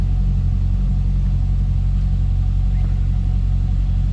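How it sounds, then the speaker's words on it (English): A 2005 Pontiac GTO idles with a stainless muffler and dual exhaust tips on each side, giving a close, loud, steady low throaty rumble with no talking. "They're a nice stainless muffler with these dual exhaust tips on each side. That's a nice throaty exhaust note too."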